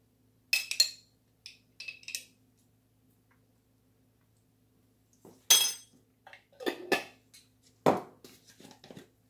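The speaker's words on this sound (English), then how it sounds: "Next, we're gonna put two spoonsful of sweet relish." Sweet relish spooned into tuna salad in a kitchen: sparse light clicks and taps of a spoon against a bowl, in short scattered clusters separated by near silence, close and fairly quiet.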